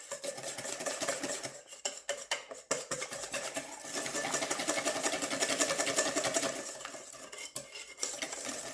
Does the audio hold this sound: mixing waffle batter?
yes